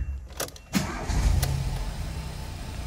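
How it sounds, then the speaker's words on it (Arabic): A Ford B-Max car engine cranks briefly, catches and settles into a steady idle, heard close and alone. "دورت السيارة"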